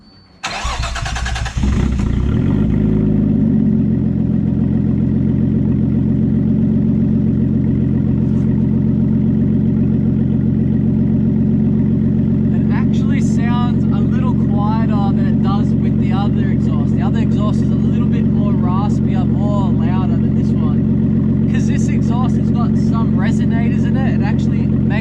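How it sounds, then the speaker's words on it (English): Nissan RB25DET engine on a straight-pipe exhaust cranks and catches, then settles into a loud, steady, deep idle drone that carries through to the end, with faint clicks and chatter in the higher range later on. "we'll see how this car sounds with this exhaust system"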